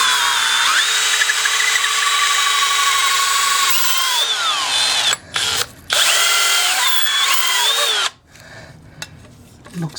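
A drill spins a homemade copper pipe cleaning brush in reverse, its nut held on with Gorilla Glue. The whine is loud, close and steady, cuts out briefly twice midway, then winds down near the end.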